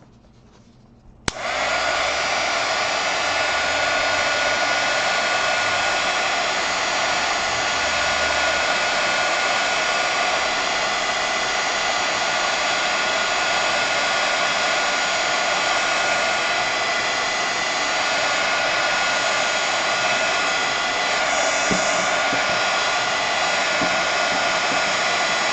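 A heat tool blasts continuously over paint on a mixed media canvas, a loud steady blowing roar that kicks in abruptly after a brief quiet start and holds without a break.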